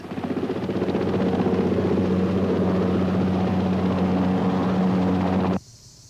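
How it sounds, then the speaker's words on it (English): Steady, loud drone of a Wessex search and rescue helicopter, a continuous thumping rotor and engine roar held for several seconds before cutting off abruptly. "84 Squadron, whose Wessex helicopters provide search and rescue cover 24 hours a day, 52 weeks a year"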